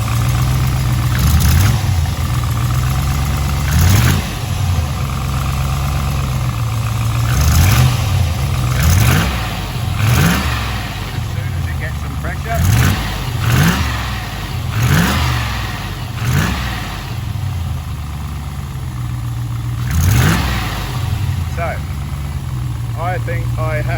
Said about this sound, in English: the first cold rev, listen to the miss